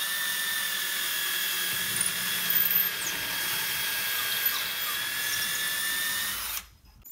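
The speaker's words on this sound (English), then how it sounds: "So now that we've drilled the hole" Power drill boring a hole into a wall stud for a ukulele wall hanger, a loud, steady high whine held for over six seconds before cutting off abruptly.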